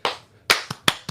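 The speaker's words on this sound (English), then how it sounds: "Let's give him 2 claps and a Ric Flair." Audience at a comic shop event clapping in two quick sets of two claps each, sharp and close, with a short pause between the sets.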